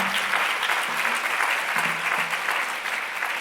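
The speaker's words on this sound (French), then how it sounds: "vous pouvez les applaudir" An audience claps steadily at a round-table event on women and responsible leadership, a dense, even applause lasting a few seconds at moderate loudness with a faint low hum beneath.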